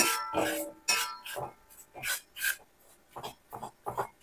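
Roasted herbal hair dye powder is sifted through a sieve, giving a series of soft, close, rhythmic scraping and shaking rustles in short bursts with quiet gaps between them.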